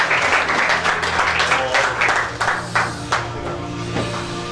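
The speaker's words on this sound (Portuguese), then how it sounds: "E a igreja pode sentar dando uma salva de palmas para adorar o Senhor." Church congregation at a summer retreat giving a round of applause in worship as they sit down, dense steady clapping from many hands, loud and close, over a low sustained organ or keyboard tone.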